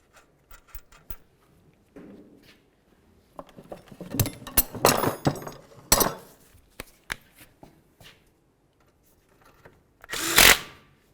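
Power tool running a nut down on the steering knuckle of a 2000-2005 Buick LeSabre, with clinks and handling noises around short, close bursts of the tool, the loudest near the end.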